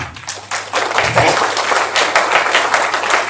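Audience applause fills a hall at a stage event in Mumbai, a dense continuous clatter of many hands that swells after a brief quieter start and holds steady, with a voice briefly audible underneath.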